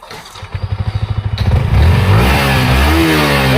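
A used 2024 motorcycle at a second-hand bike showroom in Cooch Behar cranks with rapid rhythmic chugs, then catches and settles into a loud, steady revving idle close by.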